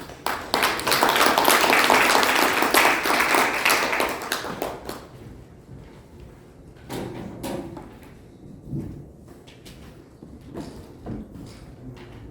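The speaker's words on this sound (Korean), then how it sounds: "여러분 큰 박수로 모시겠습니다" A lecture audience at a Korean junior-college industry-academia council event claps to welcome the speaker. The dense, loud applause fills the first four seconds, then fades into scattered thuds and light shuffling.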